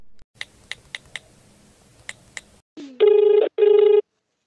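Several sharp key taps on a phone, followed by two loud, steady ringing tones as an outgoing call connects, with no voices.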